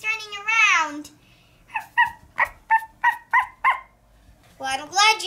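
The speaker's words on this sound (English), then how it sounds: "And Puppy loves it too. He's running around" A toy puppy lets out a series of about seven short, evenly spaced, electronic yaps, with a child-like voice speaking before and after.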